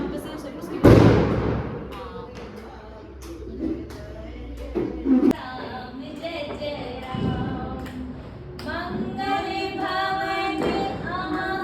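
Firecrackers set off during a Diwali celebration: a loud bang near the start and another sharp pop midway, with smaller cracks and people talking throughout.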